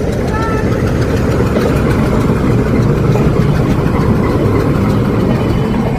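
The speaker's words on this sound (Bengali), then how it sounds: "সামনেই রয়েছে ইঞ্জিন।" The Nilgiri mountain toy train pulls away from Coonoor toward Ooty, its engine giving a loud, steady throbbing rumble throughout, with people talking over it.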